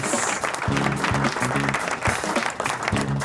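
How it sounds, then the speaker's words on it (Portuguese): A talk show studio audience claps for a returning guest, steady close applause throughout the short stretch with low musical tones running beneath it. "Palmas, Dr. Edson Aracaki da BTX, palmas!"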